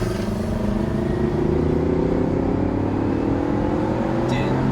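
A tuned BMW G80 M3 fitted with a downpipe holds a loud, steady engine drone close by, the turbocharged note rising slightly and sustained throughout with no gaps.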